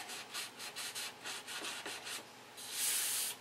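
A rag wipes wax and grease off the body panel of a classic Continental before paint, a steady run of soft back-and-forth rubbing strokes close up, faint, ending in a longer, louder swipe.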